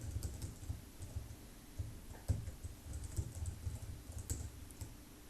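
Steady clicking of fingers typing code on a computer keyboard, quiet and close, with irregular bursts of keystrokes and no voices.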